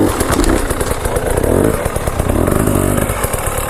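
Enduro motorcycle being ridden during off-road training, engine revving loudly and close with rough rising and falling throttle bursts throughout, no talk.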